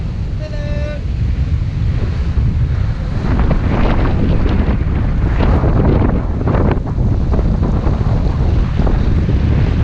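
A Hallberg-Rassy 54 sailboat under sail near Barbuda, with steady wind buffeting the microphone over constant rushing water and hull wash, loud and continuous throughout with no one talking.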